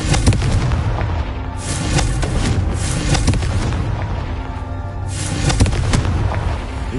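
Explosive blasts from the Confringo spell in the video game Hogwarts Legacy, several booming impacts with crackling bursts over a busy rumbling game soundscape, loud and close with no voices.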